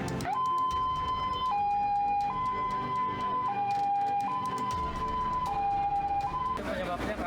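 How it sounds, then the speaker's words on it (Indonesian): Ambulance sirens at a building fire, a loud two-tone hi-lo wail alternating steadily over several cycles, up close, with traffic and crowd noise underneath. "Sejumlah ambulans pun hilir mudik mengangkut korban kebakaran."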